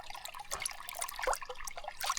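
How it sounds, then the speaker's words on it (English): Freezing cold water of a small river in the Québec wilderness trickles and splashes softly close by while grouse are being washed, with faint intermittent drips and sloshes. "So I just washed all 3 grouse in this little river here, and the water is freezing cold."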